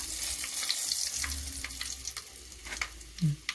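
Quiet sizzling as fenugreek seeds splutter in hot oil with curry leaves, scattered small pops and crackles, steady and close, no talking.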